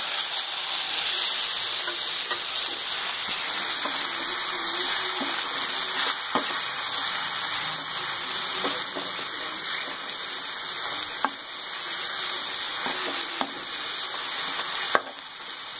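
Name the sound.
tomatoes frying with onions in pan for pav bhaji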